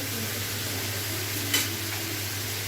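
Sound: soy sauce added to sizzling chicken in pan

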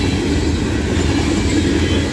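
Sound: Norfolk Southern freight train NS 7532 leading 594 passing

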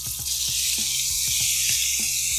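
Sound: minced meat sizzling in hot oil in a pan

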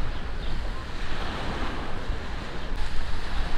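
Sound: sea waves on the beach by a restaurant

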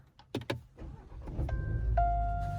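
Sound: car engine starting

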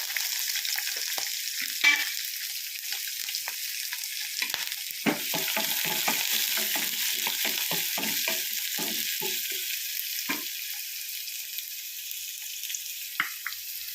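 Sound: onion and green chillies being sautéed in a pan

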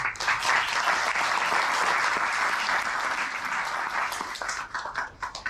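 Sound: audience applause at an award ceremony

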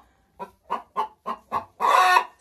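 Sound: hen clucking

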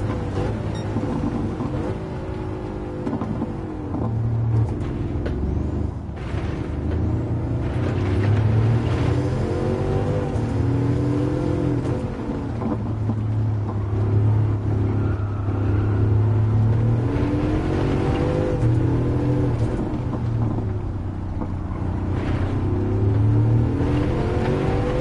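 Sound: Bugatti Chiron engine racing at Monza in Gran Turismo 7 video game

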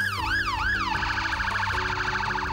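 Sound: ambulance siren

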